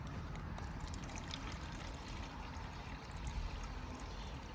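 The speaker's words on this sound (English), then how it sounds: "I'm gonna fill it up all the way to the brim with water" Water pours into a glass, filling it to the brim, a soft, steady trickle that runs continuously and stays faint throughout.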